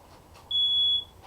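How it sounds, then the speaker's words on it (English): A single sharp, piercing electronic chirp from an oversensitive household smoke detector, lasting about half a second, loud and steady over a faint room hum in a workshop where a jigsaw was just used. "that's my smoke detector because it's kind of an asshole"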